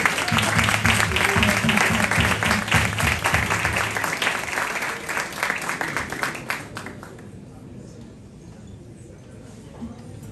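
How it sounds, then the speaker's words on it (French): Audience applause at an evening stage event for young participants, loud dense clapping filling the room for about six seconds before thinning out and fading to quiet. "On peut l'applaudir pour l'encourager."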